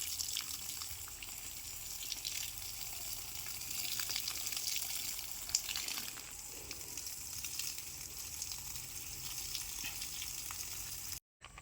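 Water pours steadily onto dry, cracked soil, making a continuous close hiss and patter that runs unbroken for several seconds with no talking.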